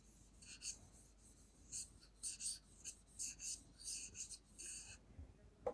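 Pen or marker scratching out short bursts of writing during a maths lesson, quick strokes coming in irregular clusters with small pauses between, close and fairly quiet.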